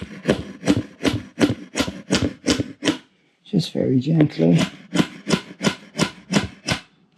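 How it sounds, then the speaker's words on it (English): A small hammer taps wooden dowels into an IKEA PAX wardrobe panel in a steady run of light, evenly spaced knocks. A brief spoken remark interrupts midway, then the tapping resumes at the same pace. "Get a little hammer in."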